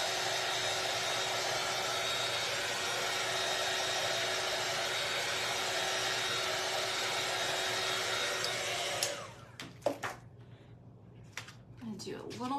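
A hair dryer drying paint on a bunny craft project blows in a loud steady roar for about nine seconds, then cuts off, leaving handling noises and a quiet voice.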